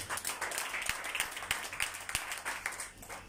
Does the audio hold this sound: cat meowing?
no